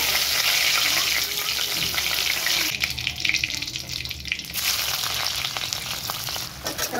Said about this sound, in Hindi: तो फ्राई अपना प्याज